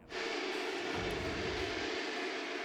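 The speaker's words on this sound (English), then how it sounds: "This is the Marine Corps AV-8B Harrier Jet, and it is doing just what you think it's doing." A steady, loud AV-8B Harrier jet engine roar with a broad hissing whine fills the whole stretch, without pause or speech, at an air show.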